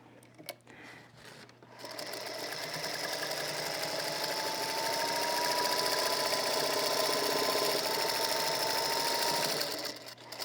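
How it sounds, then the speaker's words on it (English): A sewing machine runs in one continuous stretch of about eight seconds, stitching a quarter-inch seam on a quilt. Its motor whirs loud and steady with a fast needle rhythm, then stops near the end. "Then you just sew it on at using a 1/4 inch seam."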